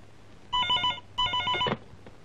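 A telephone rings twice in electronic trilling bursts, each about half a second long with a short gap between, fairly close and clear, in a Telugu film scene.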